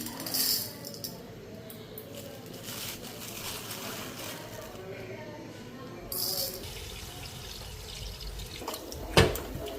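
Rice infested with tiny insects being rinsed by hand in a bowl of water, giving soft, faint sloshing and dripping throughout, with a brief sharper splash near the end.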